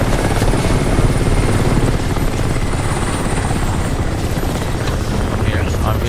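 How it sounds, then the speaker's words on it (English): Extraction helicopter arriving in a video game, a loud, steady rotor roar with engine whine that fills the whole stretch without letting up. "there's probably going to be an alien that's going to destroy a helicopter that's going to pick me up"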